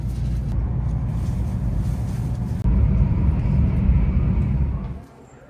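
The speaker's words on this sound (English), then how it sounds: "Here we're moving on the bullet train." A steady low rumble and rushing drone fills the space inside a moving Japanese bullet train, swelling briefly midway before fading toward the end.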